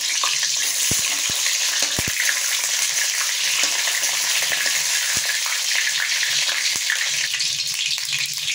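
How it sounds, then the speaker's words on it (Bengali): Eggplant slices frying in hot oil, a dense, loud, steady sizzle close up that runs throughout, with occasional sharp pops and light taps against the pan, no talking. "তেল গরম হয়ে গেছে, আমি এখন বেগুন ভাজা ছেড়ে দিচ্ছি।"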